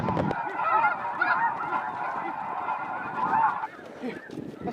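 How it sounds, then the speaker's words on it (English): A flock of geese honks continuously and loudly nearby during a hunt at a blind, a dense overlapping chorus of calls that tapers off near the end. "We got more geese coming."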